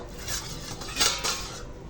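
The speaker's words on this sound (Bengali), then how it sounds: "এবার ঢাকাটা উঠিয়ে দেখবো" A metal lid comes off a cooking pot of prawns steamed in bottle gourd leaves, giving a few close clinks and a brief scrape against the rim over a low background hiss, with no talking.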